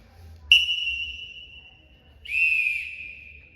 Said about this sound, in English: The second whistle sounds unconfident in itself.